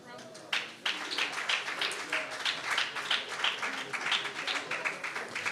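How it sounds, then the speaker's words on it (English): Audience applauding at an award presentation during a governance roundtable event, steady crowded clapping for several seconds with a sharp swell partway through and voices mixed in. "please keep clapping, keep clapping."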